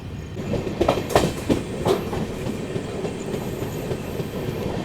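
A Tamil Nadu SF Express train (12621, Chennai Central to New Delhi) rolls steadily along the tracks with a continuous low rumble and a few sharp rhythmic clacks of wheels over rail joints near the start.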